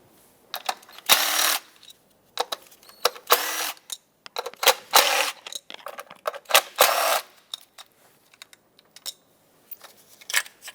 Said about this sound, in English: And then use an 8mm socket, unbolt all of them.